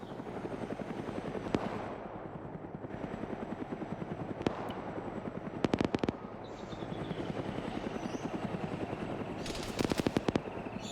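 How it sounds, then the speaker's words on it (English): A helicopter in the Arma 3 military game thrums continuously while its machine gun fires in short, sharp bursts. One volley comes near the middle and another near the end, both loud against the rotor drone. "That fucking helicopter's engaging us."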